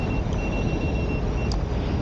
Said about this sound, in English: This wheel keeps beeping at me.